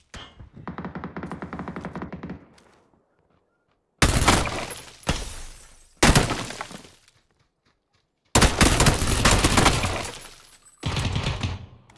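Gunfire rings out in PLAYERUNKNOWN'S BATTLEGROUNDS, sharp loud bursts of shots in separate clusters with silent gaps between, preceded by a softer tonal game sound.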